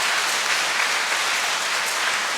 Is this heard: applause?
yes